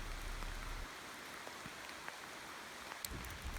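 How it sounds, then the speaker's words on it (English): Steady light rain hissing softly on a slippery mountain path while descending Vailima, faint and even throughout with a few small drops and rustles. "We began our descent down Vailima in the rain and it was quite slippery"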